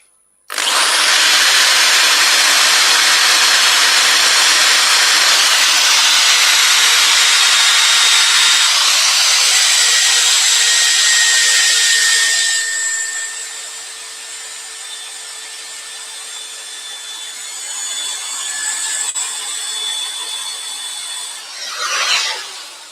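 A spalted beech bowl is sanded with 120-grit paper on a spinning lathe, a loud, continuous rushing hiss that steadies for several seconds before easing down as the lathe slows, ending with a brief scrape.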